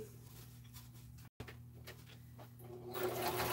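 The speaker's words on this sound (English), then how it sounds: "So I'm going to run to my sewing machine and sew this real quick." A home sewing machine stitches fabric with a steady mechanical whir and fast rhythmic clatter, close and continuous, pausing for a split second and then picking up again a little louder toward the end.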